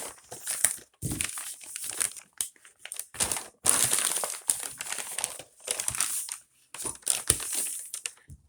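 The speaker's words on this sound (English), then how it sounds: "So I'm going to fold it in half." A brown paper bag is folded in half, giving close, crisp crinkling and crumpling bursts in irregular handfuls with short pauses between them.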